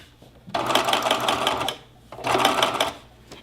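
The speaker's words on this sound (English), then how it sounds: "And then just sew it all together, all these pieces." A sewing machine runs a straight stitch joining pillowcase pieces. Two sustained whirring bursts of fast, steady needle clatter are separated by a short pause. The sound is close and clear, with no talking.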